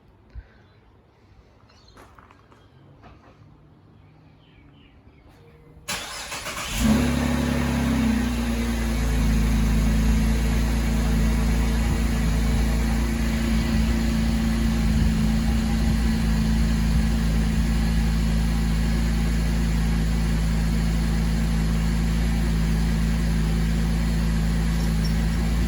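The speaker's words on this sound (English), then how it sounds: "We're gonna do a cold start to see what they sound like" Car cold start with SS mufflers: after a few quiet seconds the engine cranks and fires, then settles into a loud, steady, rumbling idle that continues close by without talk.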